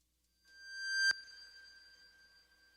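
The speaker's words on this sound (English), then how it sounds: "I want it on a big reverb." A single tone from a Eurorack modular synthesizer swells up, then blooms into a long, bright ambient tail through a big reverb, the ringing decay lingering alone.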